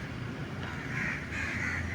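Crows caw repeatedly at a moderate distance, steady and fairly faint, with roadside background noise and no talk.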